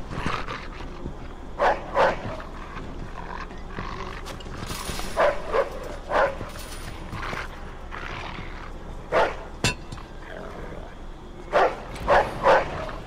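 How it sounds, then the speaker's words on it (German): A dog in the Mafia 2 video game barks in short, sharp bursts, some single, some in quick runs of two or three, over a low ambient background. "Und da ist auch der Hund."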